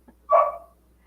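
A dog barks once at a door, a single sharp mid-pitched woof heard alone in a quiet room, moderately loud and slightly distant.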